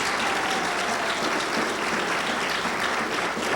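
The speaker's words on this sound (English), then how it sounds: "All those who support President Bill Clinton, please applaud." An audience applauds in support of President Bill Clinton during a 1996 election show of hands, a full, sustained round of clapping that stays even and loud throughout.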